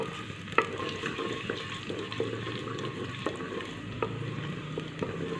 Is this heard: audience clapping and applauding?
no